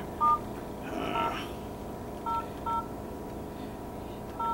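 A phone keypad sounds five short dialing tones at uneven intervals while a cell phone number is entered, over faint room noise.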